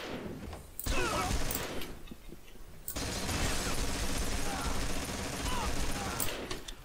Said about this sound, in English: Your right mouse fires your left gun, your left mouse fires your right gun.